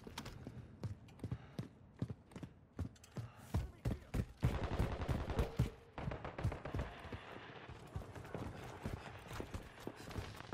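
Rapid gunfire in the shooter game Call of Duty Modern Warfare 3, dense bursts of automatic fire and single shots cracking close and loud, with dull impacts and a brief swell of heavier firing.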